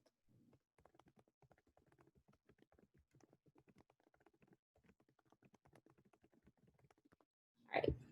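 Someone types a quiz name on a computer keyboard, a long stream of soft, quick key taps at close range with brief pauses. A louder burst of rustle or movement comes at the very end.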